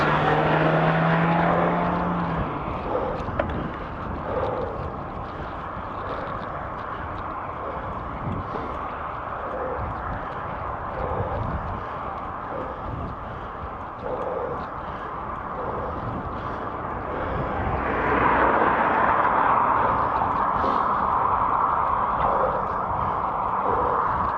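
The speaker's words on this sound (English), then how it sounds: "So we've got another lorry approaching and a car approaching ahead." On a fast road, a lorry and a car pass one after another with a broad, loud rushing roar and tyre noise that swells toward the end, heard from inside a moving vehicle.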